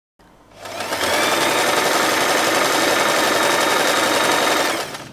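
A sewing machine runs steadily for about four seconds, stitching a folded piece of satin fabric for the center of a bow, a loud continuous whirring buzz that starts and stops cleanly.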